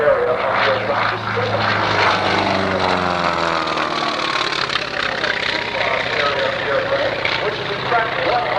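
A GPR2 replica racing plane flown by Delmar Benjamin in knife-edge flight during the 1989 Oshkosh airshow, its propeller engine droning loudly and steadily throughout with a pitch sweep early on, under crowd and announcer noise.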